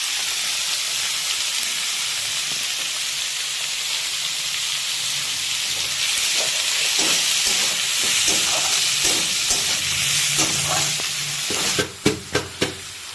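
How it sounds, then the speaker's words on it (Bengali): Paneer bhurji with tomato fries over a high gas flame in a pan, giving a steady loud sizzle, with scraping stir strokes building up and a few sharp knocks of the spoon near the end. "এটা এখানে এখন ভাজা চলছে"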